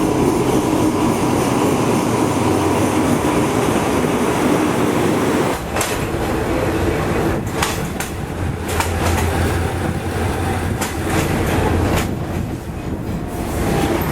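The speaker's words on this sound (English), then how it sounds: "here's the train bound for Bangkok" A Thai passenger train bound for Bangkok, running about 40 minutes late, pulls in with a steady loud rolling rumble and rail clatter, wheel clicks and brief metallic squeals building as the carriages pass close by.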